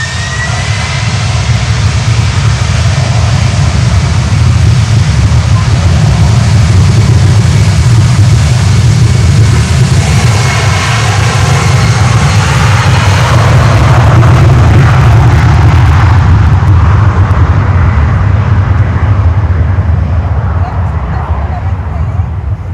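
A DHL cargo airplane takes off at Miami airport, its jet engines a loud, continuous roar that builds and then thins as it climbs away. The roar holds steady for over twenty seconds.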